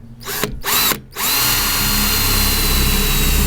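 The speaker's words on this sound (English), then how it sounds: "I'm going to start off by drilling a couple of pilot holes." A power drill bores pilot holes into the metal roof of a camper van, with a couple of short starts and stops that settle into a loud, steady, high whine, close up.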